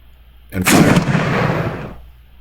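A single tank gun shot in the video game Armoured Commander II, a sharp loud blast followed by a rumbling decay lasting over a second, with no other sound around it.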